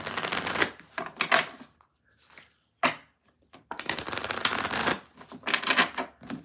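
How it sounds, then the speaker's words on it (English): Tarot cards shuffled in quick riffling bursts, crisp and close, broken by short pauses and a single sharp snap midway. "I still have one more deck to shuffle."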